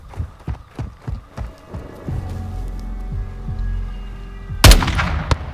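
Gunshots in a war video game's story mode, a series of deep, regular thumping shots followed by one sharp, loud blast near the end, close and without talk.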